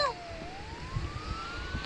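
A police car siren wails with a slow rising tone, fairly faint and distant, over a low rumbling background with no talk.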